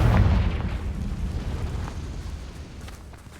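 A Confringo blasting spell explodes in Hogwarts Legacy with a loud, deep boom that rumbles and then fades into a long, rolling decay, with no voices over it.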